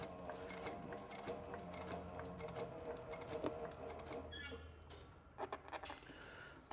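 A sewing machine stitches a leather satchel in rapid mechanical bursts with clattering needle strokes, a pause and a restart near the end, close and moderately loud, with no voices.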